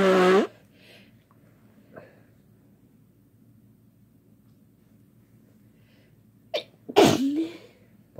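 Two sharp human sneezes ring out close to the microphone, one at the start and another near the end, separated by a quiet stretch of faint breathing and room noise.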